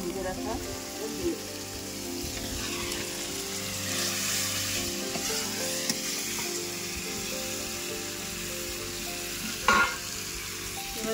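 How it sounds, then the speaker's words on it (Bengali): Spice paste with fried potatoes and cauliflower sautés in a pan, a steady close sizzle with stirring scrapes and a sharp clink near the end. There is no talking, though faint background tones run underneath. "এবার এটা ভালো করে আমি একটু কষিয়ে নেবো"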